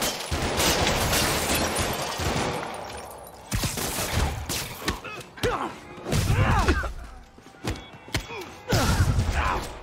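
Rapid gunfire at Spider-Man from thugs in Marvel's Spider-Man Remastered, with dense loud volleys, thuds and impacts packed into a continuous chaotic barrage and brief shouted voices in the mix.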